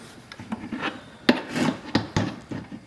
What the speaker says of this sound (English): We had to trim a little bit off of our shims because they were holding this up too high.